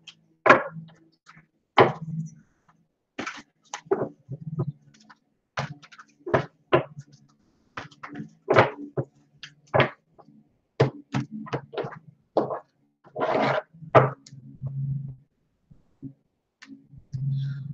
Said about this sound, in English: Some people don't like card shuffling, but it helps me.